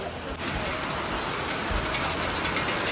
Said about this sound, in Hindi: एकदम से ही बारिश आई, और काफ़ी तेज़ बारिश आई।